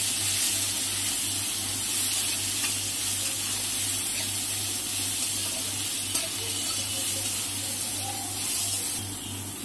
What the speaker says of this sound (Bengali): উচ্ছেটা আমার ভাজা ভাজা হয়ে গেছে